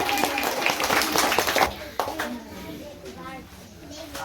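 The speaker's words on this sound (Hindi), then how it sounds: "मनीष भैया के स्वागत में एक ताली बजाइए।" Children clap together to welcome a speaker onto the stage at a Republic Day celebration in a kids' coaching centre, a dense burst of close hand claps that thins out into scattered claps and murmuring voices.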